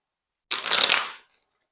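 A brief riffle of tarot cards being shuffled and drawn, a single soft papery burst of under a second, close and alone.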